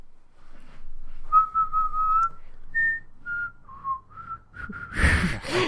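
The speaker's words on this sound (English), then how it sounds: "Whistle our theme song." A person whistles a short melodic tune, clear and close, with steady held notes, ending in a burst of breathy noise.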